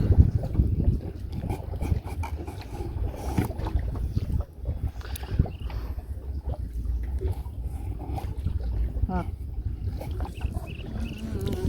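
A village wooden boat speeds across the water, its rushing spray and strong buffeting wind on the microphone forming a continuous, rough roar with no voices.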